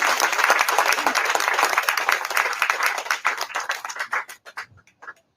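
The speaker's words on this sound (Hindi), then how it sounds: "तो तालियां बंद नहीं होनी चाहिए प्लीज" Audience clapping at a live hospital talk, dense and steady at first, then thinning into scattered individual claps before fading out.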